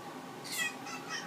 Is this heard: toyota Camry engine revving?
no